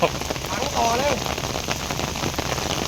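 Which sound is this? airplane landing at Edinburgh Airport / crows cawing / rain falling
rain falling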